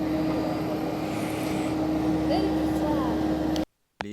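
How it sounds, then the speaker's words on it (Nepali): A small propeller airplane's engine drones steadily with a humming tone as a voice talks over it; the sound cuts out abruptly near the end. "यो हाम्रो प्लेन कति सानो, पङ्खा पनि देखेको छ बाहिरै"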